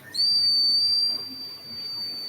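A $60 Tesla side whistle gives one short, sharp, piercing blast that is loud and close, then tails off into a quieter sustained tone, heard alone.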